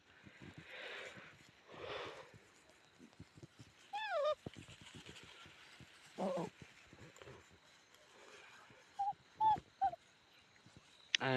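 Newborn puppies on a farm, a litter of four, give faint high whimpers and short yips, scattered and soft against a quiet outdoor background with occasional low voices.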